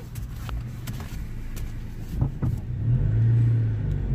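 A car manoeuvres through a three-point turn, its engine rumbling low and steady with a brief rev near the end, heard from inside the vehicle with no talking.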